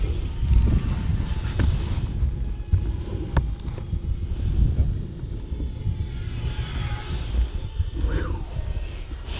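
A small RC jet whooshes and hums overhead against outdoor background noise, its engine tone swelling and sweeping past, with brief voices mixed in.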